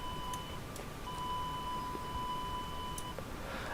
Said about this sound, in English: This is where you get to test the overhead panel and ensure that the alarms are working.